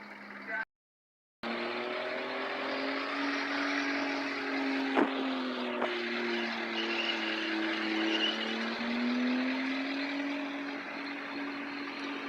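Competition burnout car at Port Pirie, South Australia, holding a loud sustained engine roar at high revs with a wavering pitch for about ten seconds after a brief gap, a crowd and a commentator's voice underneath.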